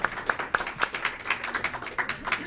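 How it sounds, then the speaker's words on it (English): A small audience at a school board meeting gives a short round of clapping, with quick, fairly even hand claps close by over a quiet room. "You guys can clap."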